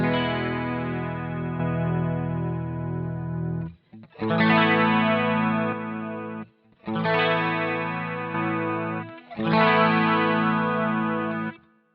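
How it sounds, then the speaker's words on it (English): Electric guitar chord played through a Boss GT-1 with JC-120 preamp and no compressor, strummed and left ringing, repeated four times with brief silences between, clean and close without voices. "Here's a chord without the compressor."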